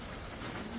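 Drapa-breed racing pigeons give soft, low coos inside a loft, steady and close against a dense background hiss.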